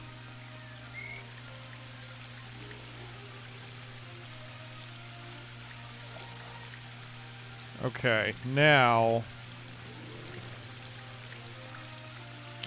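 Water pours steadily from a waterfall into a jug in the fantasy adventure game Book of Unwritten Tales 2, a continuous soft rush over a low hum, with a brief spoken exchange partway through.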